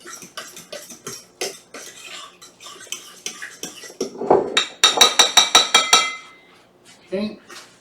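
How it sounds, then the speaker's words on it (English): Ingredients for a sauce for matzo lasagna, including thyme, are mixed in a bowl, giving a run of clinking, scraping utensil strikes against the dish that speed into a quick rhythmic burst, close and fairly loud, with a voice speaking between. "We're going to mix this up, get it all combined into one goopy mess."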